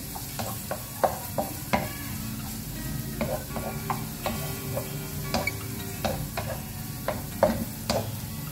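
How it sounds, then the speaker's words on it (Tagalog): Plenty of garlic sizzles in a pan while a utensil scrapes and taps against the metal in irregular stirring strokes, close and fairly quiet, with no talk. "Siyempre, madaming bawang. Kailangan natin yan."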